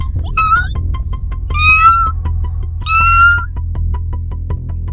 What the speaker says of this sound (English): they heard a cat meowing